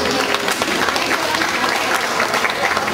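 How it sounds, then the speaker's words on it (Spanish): Dense, steady crowd applause fills a corn festival in Pasaquina, an even roar of many hands clapping throughout with no break. "es un fuerte aplauso a todos."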